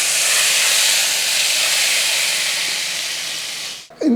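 Hot tempering poured into a pot of Kerala-style curry for rice, giving a loud, sustained sizzling hiss that slowly fades over a few seconds before a short clatter at the end.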